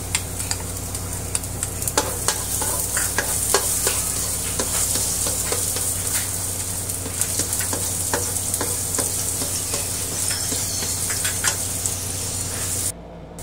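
Garlic sizzles and crackles steadily in hot cooking oil in a frying pan, with light stirring scrapes throughout, close and continuous until it cuts off near the end.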